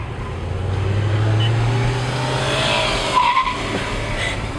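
A 2007 Corvette Z06 with a Corsa exhaust drives along, its steady low engine drone fairly close and loud, with a brief squeal of tires and people talking faintly in the car.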